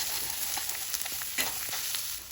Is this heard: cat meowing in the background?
no